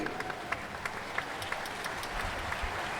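A standing audience applauds a National Police big band and orchestra at a concert, with a dense, steady wash of clapping throughout and sharper individual claps poking out, a faint voice in the background.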